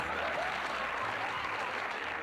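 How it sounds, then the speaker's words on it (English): A television studio audience applauds a revealed sitcom set, the bedroom from the Bob Newhart show, with dense, steady clapping that holds at an even moderate level throughout. "And people started applauding."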